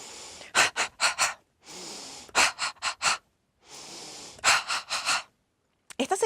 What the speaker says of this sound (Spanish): Prueba a respirar la alegría, simplemente la respiración, sin la expresión facial aún